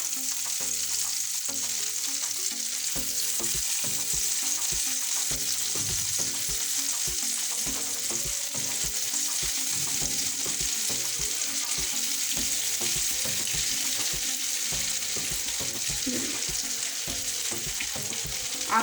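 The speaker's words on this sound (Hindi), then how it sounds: "आइए मैं आपको दिखाती हूँ कि मैंने इनको फ्राई कैसे किया है" Homemade falafel balls fry in a pan of very hot oil, giving a loud, continuous, crackling sizzle that runs steadily throughout, with no voices.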